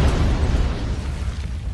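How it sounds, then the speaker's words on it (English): Ship cannons firing in the naval video game Broadside, a deep booming blast that rumbles loudly and then slowly fades, with no speech. "Ready on the cannons, and fire the cannons!"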